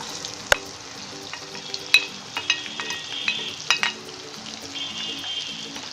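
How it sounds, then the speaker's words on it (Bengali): Chopped onion sizzles in hot oil while a spatula clacks and scrapes the pan in short irregular bursts, close and clear, no voices. "পেঁয়াজ আমি হালকা ব্রাউন করে ভেজে নিচ্ছি।"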